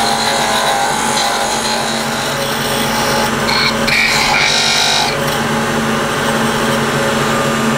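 Wood lathe taking peeling cuts while sizing a timber blank, a loud steady motor hum with the gritty rasp of the tool cutting wood throughout, no talk.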